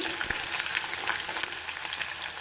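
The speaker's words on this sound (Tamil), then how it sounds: "இந்த சின்ன வெங்காயம் அதுவும் போட்டு நல்லா வதக்கிக்கலாம்" Garlic and small onions sautéing in hot oil for a veg fish curry, a dense, steady close-up sizzle that crackles continuously throughout with no pauses and no voices.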